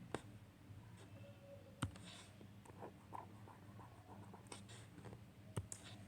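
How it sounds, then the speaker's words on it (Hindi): A pen moves over paper in short, quiet scratches and taps as someone writes out the steps of a maths reasoning problem, close and soft with occasional sharper clicks, no voices. "इसको भी ऐसे लिख लेता हूँ मैं"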